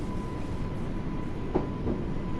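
A Class 484 electric train rumbles along at low speed in Train Sim World 2, with a steady hum, a faint tonal whine and a couple of soft wheel knocks.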